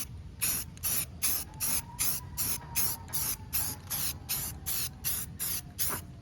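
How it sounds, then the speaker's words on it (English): Spray paint hisses from an aerosol can onto the underside of a 1991 Buick LeSabre in about a dozen short, evenly spaced bursts, each a close, sharp hiss with brief gaps of quiet between. "we're gonna go ahead and spray it."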